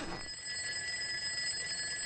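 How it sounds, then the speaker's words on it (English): An alarm clock in the video game Project Zomboid rings with a steady, thin, high-pitched electronic tone, held continuously and fairly quiet over a faint background hiss. "Alarm clock."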